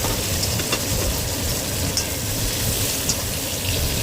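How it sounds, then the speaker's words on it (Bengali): Prawns fry in oil in a kadai, giving a dense, even sizzle and bubbling hiss that holds steady throughout, close and moderately loud, with no voices. "মাছগুলো প্রায় ভাজা হয়ে এসছে"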